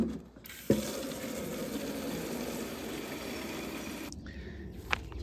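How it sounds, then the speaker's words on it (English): Water rushes from a tap into a gallon jug holding fertilizer for a fiddle leaf fig. It is a steady, close hiss for about three and a half seconds, then stops, followed by a faint click. "Fill it with water."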